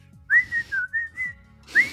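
A person whistles a short, lilting melody at close range, with a few rising and falling phrases broken by brief pauses, alone and clear.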